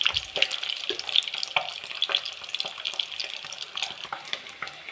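Eggs frying in oil in a kadai give a steady, close crackling sizzle with dense popping and spitting throughout, with no voices.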